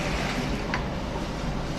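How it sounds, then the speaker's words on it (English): Water pours into a tank for a PL62x water level sensor, a continuous close rushing and splashing hiss at steady volume, with one brief bright splash partway through. "I am filling up the water tank"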